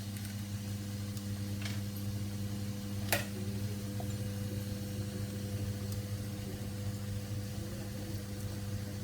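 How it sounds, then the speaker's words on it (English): A washing machine hums steadily in a home kitchen, a constant low drone with a faint periodic ticking and one brief sharp click, with no talking. "Excuse the washing machine"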